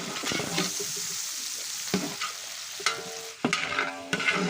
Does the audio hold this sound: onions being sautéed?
yes